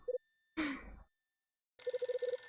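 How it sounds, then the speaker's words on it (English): A telephone rings in the video game Last Window: The Secret of Cape West, a rapid burst of electronic ring pulses near the end, after a short sigh-like vocal sound and a stretch of silence. "It's my phone again."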